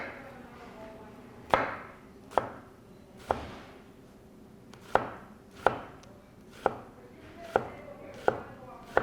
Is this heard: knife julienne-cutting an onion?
yes